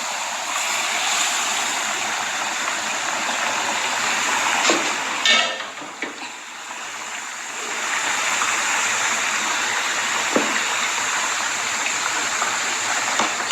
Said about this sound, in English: You will add the water to the beans here.